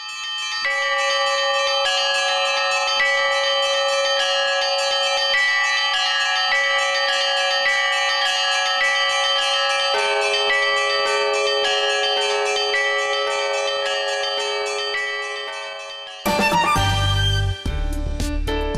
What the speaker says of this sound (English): the monastery bell convened the faithful to the service of God